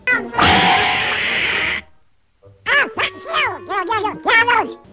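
A Donald Duck-style quack effect, a run of short, squawky, nasal bursts rising and falling in pitch, follows a loud burst of crowd noise and a brief pause.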